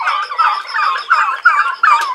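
A Plymouth Rock turkey gobbles in rapid, repeated bursts, loud and close, with several gobbling calls running together over a couple of seconds.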